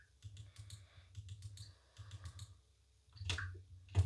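A computer keyboard and mouse click in quick irregular bursts of soft taps with short pauses, close but quiet, and a sharper click near the end.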